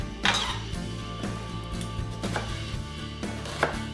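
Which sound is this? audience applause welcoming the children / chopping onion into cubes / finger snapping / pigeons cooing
chopping onion into cubes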